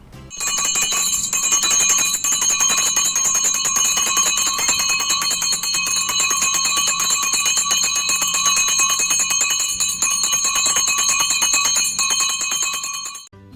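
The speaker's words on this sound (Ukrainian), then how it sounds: "Дзвени наш перший дзвонику, і пам'ятай, нам тільки мирне навчання дай." A school first bell rings continuously at a first-day-of-school ceremony in Ukraine, a loud, steady electric ringing that runs without pause for about thirteen seconds before cutting off.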